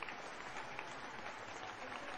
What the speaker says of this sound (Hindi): हमारे गुरु डॉक्टर प्रोफेसर वसुपाल सर के लिए एक जोरदार तालियों से बहुत बहुत धन्यवाद